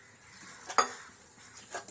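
Hands knead vada batter made with semolina, giving faint, soft, wet squishes and a couple of sharper slaps close by in an otherwise quiet kitchen.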